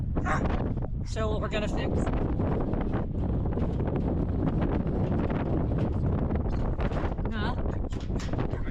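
Strong Wyoming wind buffets the microphone in a loud, constant low roar that fills the whole stretch without easing, while people talk briefly over it.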